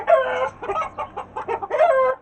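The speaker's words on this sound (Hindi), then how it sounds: "अभी हमारा सील मुर्गा शोर मचा रहा है" A backyard rooster and hens making a racket, close loud clucks and squawks in quick irregular bursts, with one longer crow-like call near the end.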